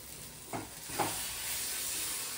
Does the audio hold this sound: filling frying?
yes